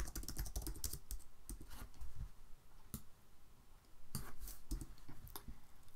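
Rapid typing on a computer keyboard, close and fairly loud, with bursts of clattering keystrokes separated by brief pauses and no speech.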